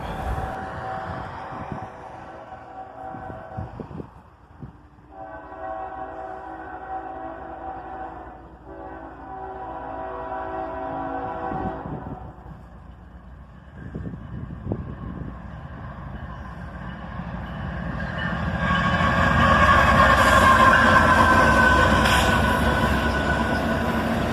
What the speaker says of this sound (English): The Manifest train, led by a single ES44 ACH.